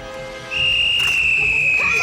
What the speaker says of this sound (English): Kobe, you will go on his second whistle.